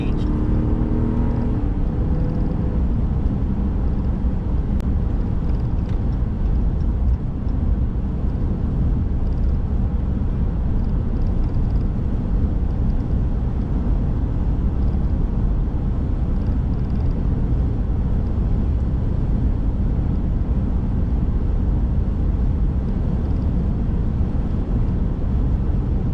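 A Hemi V8 car engine drones steadily while driving along a road, a constant loud low rumble with road and wind noise throughout and a brief rise at the start.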